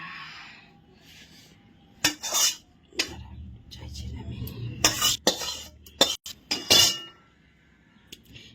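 Cooking pot being lifted off a stove after simmering a large catla fish head, with metal utensils clinking and clattering in several sharp bursts over a low background rumble, no voices.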